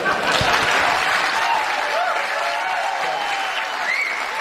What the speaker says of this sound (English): this annoying audience was clapping